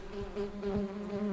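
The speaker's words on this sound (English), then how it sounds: "That's the sound of a bumblebee." A bumblebee buzzes in a steady, droning hum that holds close and loud throughout, with no voices over it.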